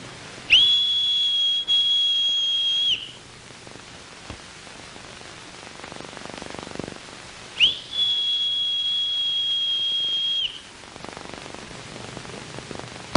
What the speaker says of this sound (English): Did you know hear the laird's whistle?